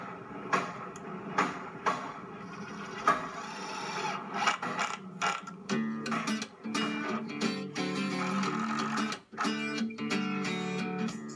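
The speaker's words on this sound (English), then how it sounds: "And then screw it in." A rafter is screwed into place against a wall, giving close, irregular scraping and grinding bursts of wood and metal, with sustained whirring runs in the second half.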